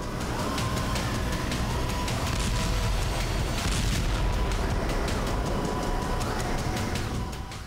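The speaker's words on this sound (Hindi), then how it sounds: "कीव पर मिसाइलों की बरसात शुरू हुई और कीव के कई इलाके धमाकों से गूंज उठे।" Missile strikes over Kyiv during a Russian attack: dense, continuous rumbling blasts and crackling booms fill the scene, loud and chaotic, with layered noise and no clear pauses.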